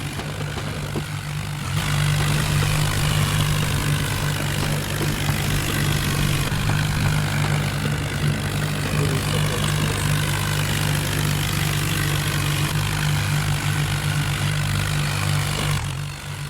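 A tractor engine drones loud and steady as it pulls out, with a strong low hum that holds throughout and barely changes. No voices are heard.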